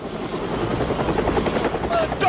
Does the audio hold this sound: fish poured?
no